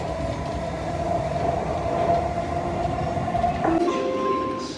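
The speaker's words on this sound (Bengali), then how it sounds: "The final destination of this train is Port Terminal 3." A Dubai Metro train runs steadily on its way to Airport Terminal 3, a continuous close rumble with a sustained tonal whine and rail noise, its pitch shifting slightly near the end.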